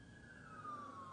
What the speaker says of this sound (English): ambulance, I think